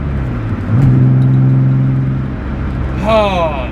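A BMW E36 M3 Laguna Seca car engine rumbles close by and climbs in a rev while driving, then settles back, with voices talking over the engine near the end.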